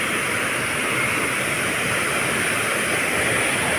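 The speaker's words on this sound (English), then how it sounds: "the sheer force of water" Powerful fountain water thundering down at Villa d'Este in Tivoli, a dense, steady roar of falling spray filling the whole space, loud and close with no pauses.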